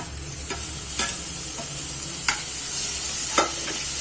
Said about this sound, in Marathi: तो पण आपल्याला 2-3 मिनिटं परतून घ्यायचा आहे छान तेलामध्ये